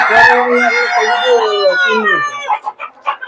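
Native chicken on a poultry farm in Udupi district, a rooster giving one loud close crow followed by short clucks.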